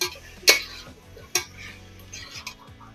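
A spoon scrapes and knocks against a pan while chana dal and potatoes are mixed, with two sharp clanks and softer taps and scrapes spaced out over a quiet background.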